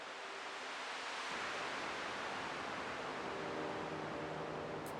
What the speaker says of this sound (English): there's some reverb on this one, the riser.